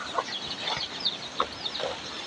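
A large rooster clucks a few times amid a noisy outdoor backyard farm background, the calls brief and moderately distant.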